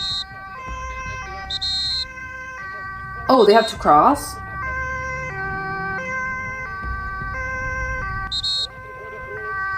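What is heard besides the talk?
ambulance siren on escorted emergency drive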